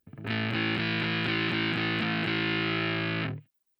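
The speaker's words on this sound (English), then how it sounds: "When you play power chords without palm muting, it sounds like this." Distorted electric guitar power chords strummed open in a steady rhythm, about eight strokes ringing into each other, loud and sustained, then cut off.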